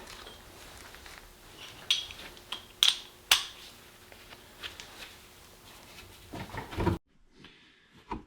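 A socket wrench ratchets in short clicking bursts while a bolt is worked into the bottom of a bump stop on a 2025 Jeep Gladiator Rubicon during a lift install, with sparse close metallic clicks and a rustle near the end.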